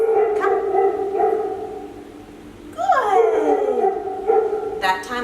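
Several dogs bark, howl and whimper nearby in drawn-out, wavering cries, swelling and fading in overlapping bursts with a rising howl near the middle and sharp yips toward the end.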